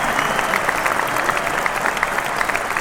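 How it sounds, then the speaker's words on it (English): Steady applause from a crowd, many overlapping claps forming a dense, even wash at moderate level, continuing throughout without talk. "we'll let that applause stick around for quite some time"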